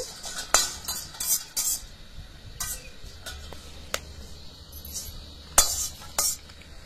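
Whole spices, including marathi moggu and cinnamon, dry-roasted in a pan for sambar powder, with sharp metallic clinks and scrapes of a spoon against the pan in irregular bursts, close up over a quiet background.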